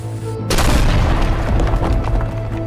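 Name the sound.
dynamite exploding in a self-made video game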